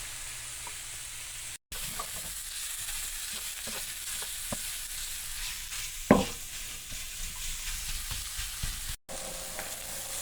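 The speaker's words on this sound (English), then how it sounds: "Alright, so we got our sausage rendered out, getting a little brown on it" Sausage renders and browns in a pan, sizzling softly and continuously, with scattered stirring clicks and a louder scrape about midway through.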